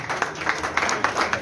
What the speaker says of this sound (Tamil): கைத்தட்டிய பத்து பேரை பாராட்டி